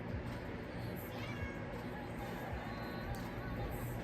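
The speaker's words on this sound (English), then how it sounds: "Don't mind the cat in the background." A talkative pet cat meows faintly in the background of an indoor room, its short cries barely rising above steady music and a low voice.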